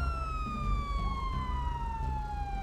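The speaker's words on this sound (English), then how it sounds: "Cutting vehicles off, not yielding to my siren." Police car siren in GTA 5, a steady wailing tone slowly falling in pitch over a low engine rumble, continuous and fairly close.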